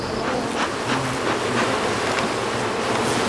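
Honeybees buzz densely around a hive in Provence, a steady close swarm drone with no voices.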